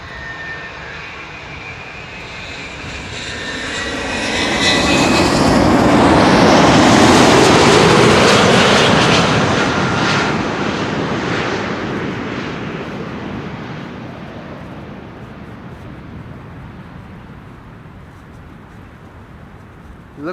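A Norse-operated airliner arriving at Amsterdam Schiphol Airport roars loud and close as it passes overhead, the engine noise swelling to a peak and then slowly fading into a long rumbling tail, with no voices.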